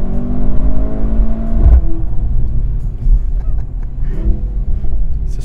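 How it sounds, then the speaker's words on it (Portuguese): Mercedes-Benz C 63 S E Performance hybrid sedan under hard acceleration, its engine and exhaust rising loudly in a sustained rev with gear changes, close and powerful, as people ride inside. "Esse som do escape é absurdo."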